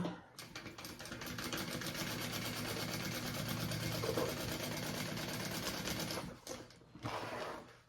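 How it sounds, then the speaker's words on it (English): A sewing machine runs a continuous, rapid stitching buzz as it sews a second row of stitches on an embroidered crossbody bag, steady and fairly close, then stops briefly and restarts near the end. "And then I'm going to do a second row of stitching as well."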